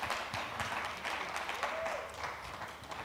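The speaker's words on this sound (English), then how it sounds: "Let's have a round of applause for Her Excellency." Applause from the audience at a women's peace summit in Sierra Leone, honouring a dignitary, a moderately faint, steady patter of clapping that holds through the moment without talk over it.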